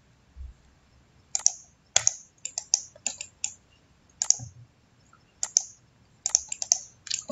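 Quiet computer mouse clicks while drawing in CATIA software, coming in irregular single and double clicks separated by short silences.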